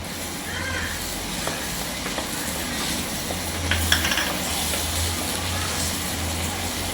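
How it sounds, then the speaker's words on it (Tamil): A ground paste of cumin, poppy seeds and shallots sizzles in hot oil for a fish curry, a continuous soft frying hiss with occasional stirring scrapes close by. "போட்டு நல்லா எண்ணெயிலே வதக்கிடுவோம்."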